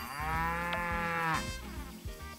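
A cow in the farming video game Story of Seasons: Pioneers of Olive Town gives a single long, loud, close moo with a harmonic drone, followed by a shorter tail of lowing.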